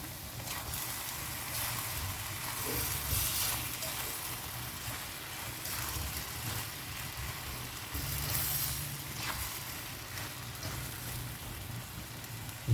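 Mutton karahi sizzling steadily in a pan, a continuous crackling hiss like light rain that runs close and even throughout, with a few soft swells and no talking.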